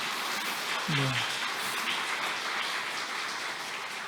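Applause from a church congregation at a Sabbath service welcoming a returning member, a steady broadband clatter running through the clip with a brief voice-like tone near the start.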